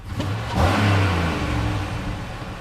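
2008 Buick LaCrosse Super with a 5.3L V8 revving, a deep exhaust roar swelling quickly to a loud peak, then easing back into a steady hum, heard close and alone.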